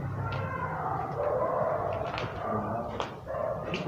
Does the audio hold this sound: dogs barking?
yes